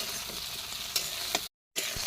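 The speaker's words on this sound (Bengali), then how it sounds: "ওইদিকে ফুলকপিটা ভাজা ভাজা করে নেব" Cauliflower pieces frying in hot oil while being stirred, with a steady sizzle and scraping spoon strokes that cut out briefly to silence before the sizzle resumes.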